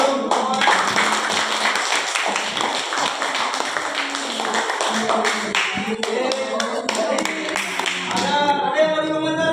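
Small group of participants in a classroom session clapping together, a lively patter of close, sharp hand claps over several seconds, with a few voices chattering near the end.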